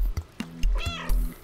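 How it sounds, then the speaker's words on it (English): A cat in the video game Stray meows several times in quick succession. The meows are close, clear and alone. "There's your meow"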